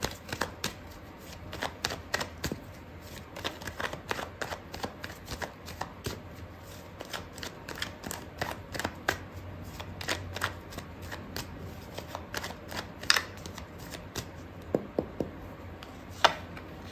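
Tarot cards being shuffled by hand for a love reading, with a steady stream of crisp riffling snaps and slaps that keeps going for many seconds and has a few louder flicks near the end.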